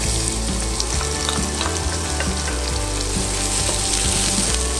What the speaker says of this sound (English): frying the onions and the garlic.